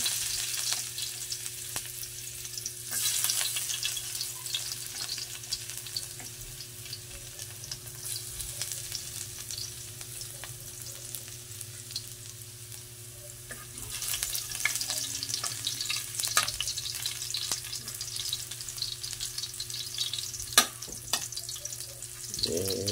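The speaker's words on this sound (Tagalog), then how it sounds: "sunod natin gisa na natin itong ano, bawang" Garlic sautéing in oil in a pan for squid adobo, giving a steady close sizzle and crackle with occasional stirring scrapes and no talking throughout.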